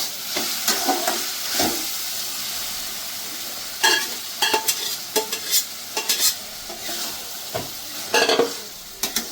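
Boiled vegetables tossed into sautéed spices for a vegetable tadka dal, stirred in a pan with a steady sizzle and bursts of scraping spoon strokes, close and fairly loud with no talking.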